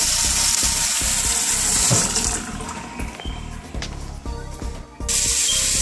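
Water gushes steadily from a tap, loud and close, with the flow easing partway before surging strongly again.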